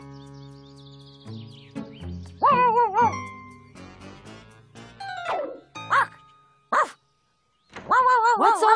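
A big cartoon dog, Clifford the Big Red Dog, barks in a few loud, separate bursts, set against a busy cartoon soundtrack of music and jingling effects.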